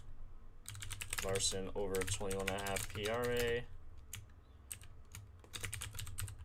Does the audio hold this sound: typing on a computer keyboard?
yes